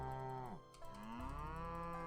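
Cows moo in the farm video game Another Farm Roguelike Rebirth, two or three drawn-out, clear moos that overlap closely in a short burst.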